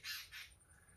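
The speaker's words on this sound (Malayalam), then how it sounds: "ഏതോ ഒരു കിളി അവിടുന്ന് ഒച്ച എടുക്കുന്നുണ്ട്," A bird calls nearby outdoors, two quick bright chirps in succession, the second slightly softer, over quiet background.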